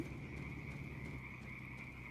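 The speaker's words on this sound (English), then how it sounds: "like the ribbit noises in the pond here as you pull up by it" Frogs croak by a pond in a video game, a steady low ribbiting chorus with a sustained high insect-like tone above it, faint and continuous.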